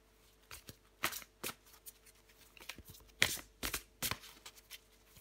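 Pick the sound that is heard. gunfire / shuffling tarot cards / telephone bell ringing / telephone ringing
shuffling tarot cards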